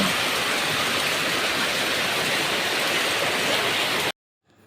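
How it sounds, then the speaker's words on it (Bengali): Heavy rain pours down outside on a dark afternoon, a dense, constant roar of falling water that stays loud and even for about four seconds before cutting off abruptly. "ভীষণ বৃষ্টি হচ্ছে"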